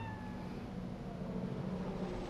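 A cat meows in the video game Cyberpunk 2077, a soft mewing over a steady low hum of game ambience and background drone, with no talk.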